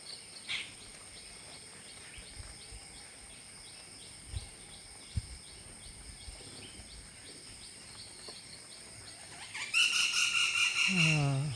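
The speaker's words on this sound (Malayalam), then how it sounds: "കിളികളെ ശബ്ദം കേൾക്കുന്നില്ലേ" Faint, distant birds chirp repeatedly over a steady insect drone, then a sharp, loud squawking call bursts in near the end.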